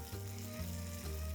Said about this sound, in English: We're going to cook this on a hot tawa with a little bit of oil